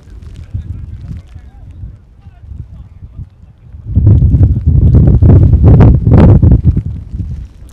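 Heavy wind buffeting the microphone at an outdoor amateur football match between Gödöllői SK and Vecsési FC, rumbling gusts that grow strong and roaring midway, with a commentator talking throughout.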